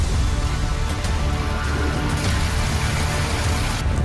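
Rain falling in Delhi during a long night-to-morning downpour, a dense steady hiss of drops on surfaces, loud and continuous with no talking.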